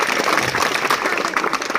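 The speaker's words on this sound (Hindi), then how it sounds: "विक्रम जी जाखड़ का आप सभी की तालियां बजवाकर मैं स्वागत करवाना चाहूंगा" A crowd claps steadily to welcome BJP candidate Vikram Jakhar at a civic reception in Balwantpura; a brief burst of dense, loud applause fills the space with no speech on top.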